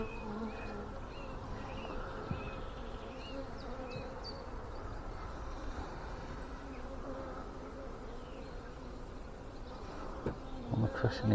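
Honeybees buzz steadily around an open hive during an inspection, a dense continuous drone close to the listener with no talk, a few clicks near the end.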